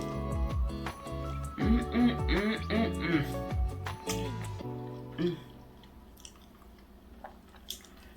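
Someone chews a mouthful of cheesy potato and burger close to the microphone, soft wet squishing bites in an uneven rhythm that fade into quiet near the end.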